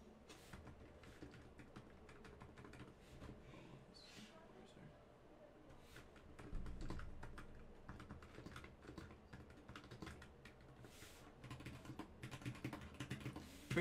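Someone types on a Razer Huntsman Mini keyboard with quick, irregular keystrokes, quiet and close, sometimes in short bursts and sometimes in pauses.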